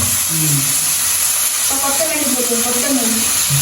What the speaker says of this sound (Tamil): இது நல்லபடியாக வதங்குவோம்